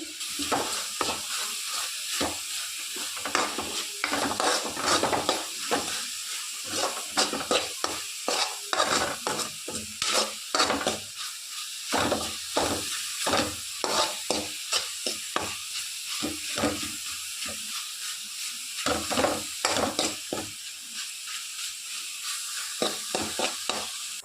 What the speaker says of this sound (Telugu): అడగంటకుండా మనం స్మాష్ చేసుకుంటూ తిప్పుతూ ఉండాలి